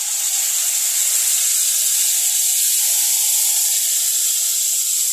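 Juice poured into a hot pan while bowal fish cooks with sarsa (mustard) hisses in a steady, loud, unbroken sizzle that holds evenly throughout, with no voices.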